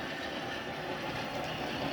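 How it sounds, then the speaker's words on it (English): A model passenger train led by a Baldwin AS616 locomotive rolls along a layout, giving a steady, close, continuous rumble with no break and no voices. "There's a passenger train coming down"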